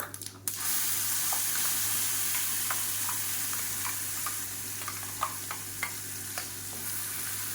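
Ground chutney with a pinch of asafoetida simmers and sizzles in a pan during breakfast cooking, a continuous frying hiss with occasional soft clinks and scrapes of stirring over a low, steady hum.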